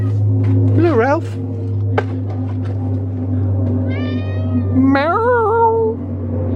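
A cat gives two drawn-out, rising-and-falling meows in a garden during seed planting, one early and one near the end, with a constant low hum underneath.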